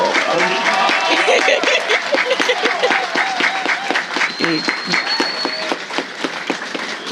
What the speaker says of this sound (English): as we give them a well-needed round of applause